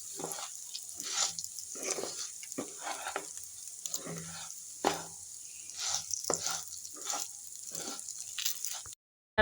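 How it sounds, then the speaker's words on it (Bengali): Rice grains frying in oil for a simple pulao, bay leaf and peppercorns in the pan, stirred in repeated scraping strokes over a soft sizzle, close and fairly quiet, ending in sudden silence. "আমি ভালো করে চালগুলা দিয়ে নেড়ে চেড়ে ভেজে নেব খুব ভালো করে"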